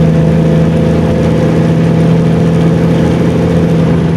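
A loaded super dump truck's heavy diesel engine drones loud and steady after a downshift, a continuous low rumble close up with no talk.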